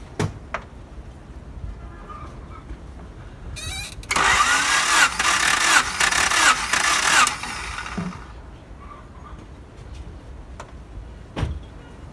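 A 1992 Honda Accord engine cranks on the starter during a dry compression test, giving a steady, loud, rhythmic churning for about three seconds. Quieter clicks and a faint thud come before and after it.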